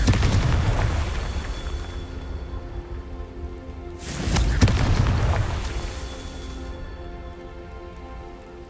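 Two booming Confringo spell blasts in the video game Hogwarts Legacy, one at the start and one midway, each a heavy crackling burst that decays into a long hissing, rain-like rumble.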